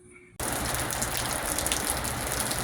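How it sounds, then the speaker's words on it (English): Monsoon rain in the Philippines starts abruptly and then pours steadily, a dense, loud, continuous hiss of water drumming on surfaces with no voices over it. "I'm getting some more rain. We're still in the monsoon season here"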